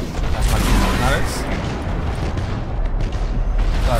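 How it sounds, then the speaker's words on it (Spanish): A ship blowing up in the space battle game Battlefleet Gothic: Armada: a loud, rumbling boom with crackling debris that rolls on for several seconds amid other battle noise. "Como ha reventado, joder, menuda explosión se ha pegado esa"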